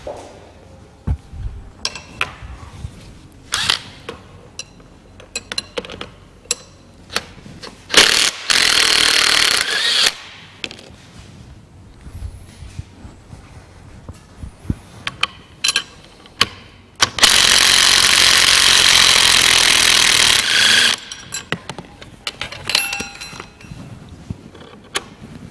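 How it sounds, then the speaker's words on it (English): A ratchet wrench working the bolts out of a Bradley trailer coupling damper, with bursts of rapid metallic clicking, scattered knocks and clanks, and two longer sustained ratcheting runs, close and loud. "To do this, these two bolts need to be removed."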